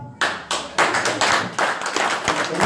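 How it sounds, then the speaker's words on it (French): An audience applauds the candidates at a 2017 Paris legislative election meeting, steady crowd clapping that starts after a brief pause and continues loud and dense throughout. "d'applaudir les candidats."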